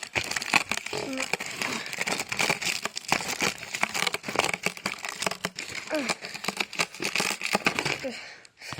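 Cardboard box of a toy lobster being opened, with steady close crinkling, crumpling and tearing of packaging throughout, punctuated by sharp rustles and brief voice fragments.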